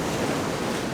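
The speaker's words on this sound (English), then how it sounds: "the waves are still hammering along." Ocean waves crash on the shore at West Strand at dawn, heard as a continuous near roar of surf with a steady wash of spray and no voices.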